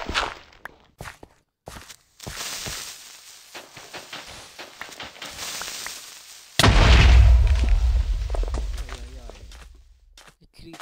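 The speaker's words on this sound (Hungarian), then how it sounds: "creeper felrobbant mögöttünk?" A Minecraft creeper explodes in the video game: footsteps and small in-game sounds give way to a sudden loud, deep blast partway through, followed by a heavy rumbling decay.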